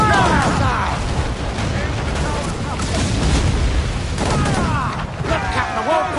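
Cannon and mortar fire in Assassin's Creed IV, a continuous roar of booming blasts and crackling impacts mixed with shouting voices throughout.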